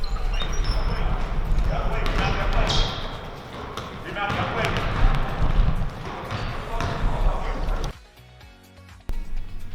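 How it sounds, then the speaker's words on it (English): Basketballs bounce in a school gym, dull thumps recurring over a busy, echoing background of room noise and voices. The sound cuts to a quieter space near the end. "And I believe I hear some balls bouncing."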